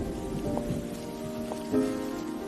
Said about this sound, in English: it was raining again.